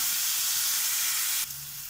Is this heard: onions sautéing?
yes